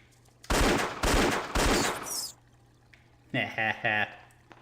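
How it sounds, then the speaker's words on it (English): Revolver gunshots in Indiana Jones and the Infernal Machine, three loud, close blasts in a row, then a voice talks briefly. "The revolver has unlimited ammo"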